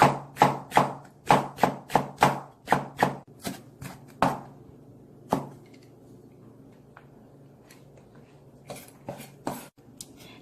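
A knife chops fast through vegetables on a cutting board for cold cucumber soup, a quick run of crisp, even thuds, then one isolated chop after a pause, and a few lighter taps near the end, close and clear.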